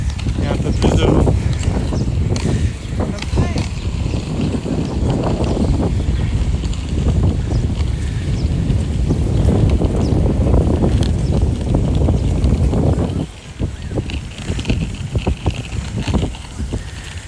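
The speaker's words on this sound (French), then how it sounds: "Il y a un peu plus de vent." Strong wind roars steadily across the microphone outdoors, a continuous broadband rush that dips slightly near the end.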